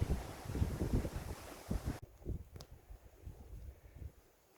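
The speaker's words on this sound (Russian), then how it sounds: "Ветер" Gusty wind buffeting the microphone on the Lake Baikal shore, rough low rumbling that rises and falls, louder in the first half then easing off.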